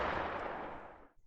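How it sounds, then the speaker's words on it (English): A single first-person gunshot from the video game Payday 2 gives a broad, heavy blast that decays over about a second, close and full, followed by a faint mechanical clink. "So for example, the first person shooting sound is this"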